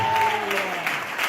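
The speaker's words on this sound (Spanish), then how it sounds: "Damos aplauso al Espíritu Santo." A church congregation applauds in a brief burst of clapping, with a voice heard briefly over it.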